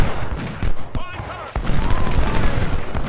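Troops trade gunfire in a Civil War strategy video game, a dense crackle of scattered rifle shots continuing steadily throughout, with a sharper crack near the middle, loud and close.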